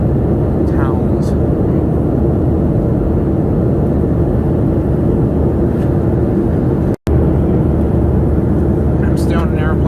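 Steady airplane cabin engine roar in flight from Salt Lake City to Chicago, a loud constant drone that drops out for an instant near the end.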